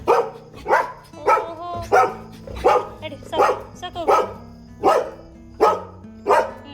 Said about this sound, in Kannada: ಒಳಗೊಂದು ನಾಯಿ ಅಳ್ತಾ ಇದೆ.